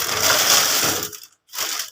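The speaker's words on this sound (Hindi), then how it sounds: "ये स्टील के ग्लास वगैरह" Steel drinking glasses from an old family dowry set being handled, a loud close metallic rattling and scraping that stops briefly, then returns in a shorter burst.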